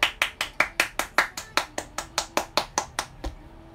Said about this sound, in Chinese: 给你们一个热烈的掌声。